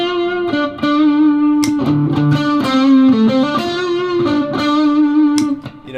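Electric guitar played through an overdrive pedal on a pedalboard, giving a sustained, gritty, saturated tone with ringing held notes and occasional strummed chords, loud and steady throughout with no talking.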